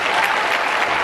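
A brief burst of dense audience clapping fills a lecture hall, loud and steady with no voices over it.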